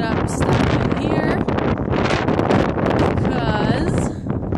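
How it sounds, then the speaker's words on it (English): Powerful wind roars at a mountain campsite near horse stables during a cross-country ski trip, heavy continuous buffeting on the microphone with a person talking underneath. "And it is so windy, we got knocked over like 15 times. The wind is just insane."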